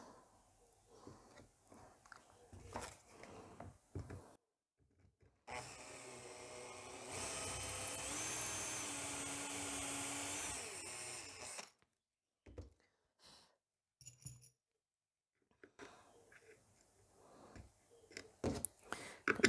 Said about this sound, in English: I'm going to first drill one hole, tighten it, and then I'm going to drill the next hole.